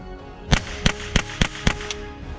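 Six sharp gunshots from a Ruger 10/22 .22 rifle ring out in quick, fairly even succession, each a crisp crack that fades fast.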